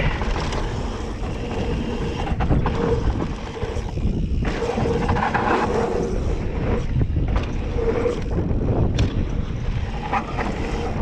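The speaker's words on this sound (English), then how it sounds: "Windy as shit." Steady loud wind buffeting the microphone throughout while riding a Specialized Levo e-bike on a trail, a constant roaring rush with gusty swells and no voices.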